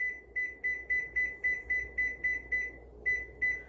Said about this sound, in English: So I'm going to set my timer. I don't know how loud this is going to be